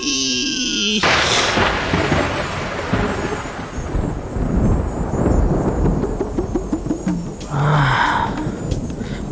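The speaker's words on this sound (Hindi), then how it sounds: "बिजली कड़की है।" Lightning is followed by a sudden loud thunder crack that rolls into a long, heavy rumble. It is close and dominant, and a short noise burst comes near the end.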